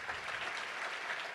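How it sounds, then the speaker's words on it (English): A banquet audience at a touchdown club gathering in Little Rock gives the volunteers a round of applause, a dense, continuous roar of many hands clapping at once, steady and unbroken, with no talk. "Let's give a big round of applause to all of our volunteers."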